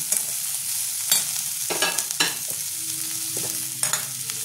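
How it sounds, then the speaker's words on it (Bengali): Green chillies and tomatoes fry together with onions in a pan for a puti fish curry, a busy sizzle broken by repeated scraping stirs of a spatula, with faint tonal hums underneath. "কাঁচা লঙ্কাটা টমেটোও দিয়ে দিলাম, সব একসাথে দিয়ে দিলাম। এটা একটুখানি হালকা ভেজে নেব।"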